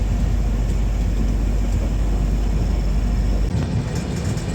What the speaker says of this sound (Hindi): तो अपनी ट्रेन भी भाई यहाँ से खुलने वाली है।